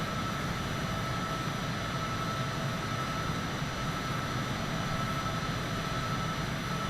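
A Citation private jet's engines held at full power in Microsoft Flight Simulator 2020 give a steady, unbroken roar with a faint high whine, loud and constant with no voices.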